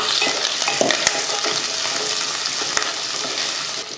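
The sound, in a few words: onions frying in oil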